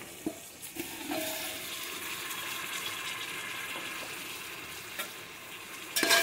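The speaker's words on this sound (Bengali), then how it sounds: "চালটা দিয়ে একটু নাড়িয়ে নেবো।" Washed rice is stirred into tomato frying in a pan, producing a soft, even sizzle with a few sharp clinks and scrapes of the spoon, quiet and close.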